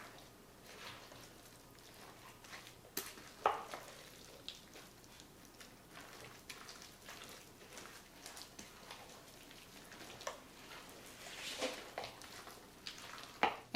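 Tortillas are gently mixed into a chicken chalupa casserole with soft, quiet, wet squishing and stirring sounds, and a few sharper clicks of a utensil come through at scattered moments.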